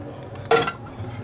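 French mac and cheese with bacon being dropped into a pan, a single short clattering thud of food and metal lasting a fraction of a second over a low room hum.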